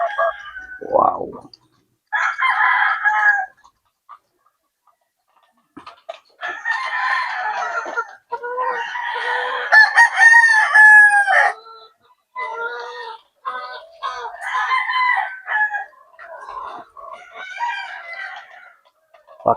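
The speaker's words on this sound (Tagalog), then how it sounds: "Mga bagong palahi ni Paring Mike. Boston Roundhead." Boston Roundhead gamecocks kept by a backyard breeder: loud, nearby clucking and squawking in intermittent bursts, with a crow in the middle and short quiet gaps between calls.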